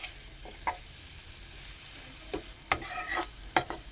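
An onion stirred and sautéed with spices in a pan gives soft, intermittent stirring scrapes and light sizzling, with a few brighter clatters toward the end and no voices.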